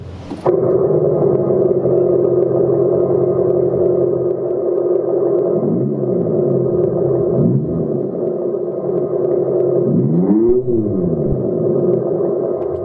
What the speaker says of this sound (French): déclenche le haut-parleur qu'il y a sous la voiture et qui vous simule un son d'échappement Abarth